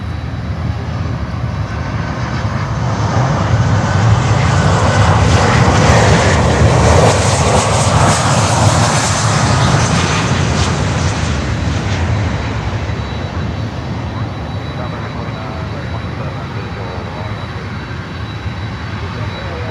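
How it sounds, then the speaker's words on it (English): An American Airlines Boeing 737-800 from Chicago O'Hare arrives at Miami Airport, its jet roar swelling to a loud peak near the middle and then easing off, with a voice talking over it. "Next inbound is American Airlines 737-800 from Chicago O'Hare"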